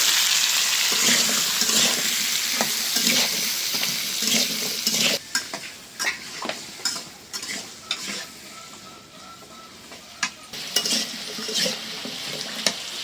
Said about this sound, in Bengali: আলু ভাইজে নিলাম, এখন দিয়ে দেই পেঁয়াজটা ভাইজে নেব, তাহলে আলু আরও ভালো মতো ভাজা হয়ে যাবে।